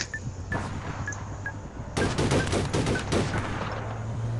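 Gunfire in the shooter game APB Reloaded: a few spaced single shots, then a dense loud burst of rapid automatic fire with a couple of pauses, over a steady low engine-like hum.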